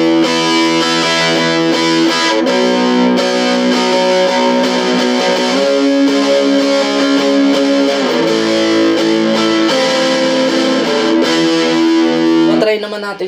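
Electric guitar driven through a Mooer distortion pedal, playing a sustained, saturated chord riff continuously and loudly before cutting off abruptly at the end.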